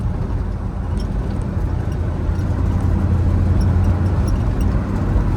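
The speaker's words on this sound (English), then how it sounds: "This thing can get up and go. Fun truck to drive. It's got some power. Even on this bumpy road." A restored 1964 Chevrolet C10 pickup truck with an LS V8 engine drives over a bumpy road, giving a loud, steady low rumble of engine and road noise close to the microphone.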